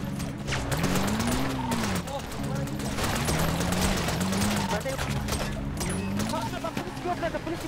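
Gunfire from a shootout in the video game GTA 5 roleplay, bursts of rapid shots crackling over a busy mix with a tonal siren-like wail, loud and close throughout.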